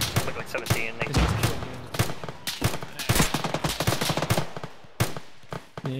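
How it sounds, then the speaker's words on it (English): Rapid gunfire in the military shooter Arma, with dense bursts of automatic fire and scattered single shots crackling close and loud for several seconds, and a few voices talking in the background. "Yeah, he's returning fire on us."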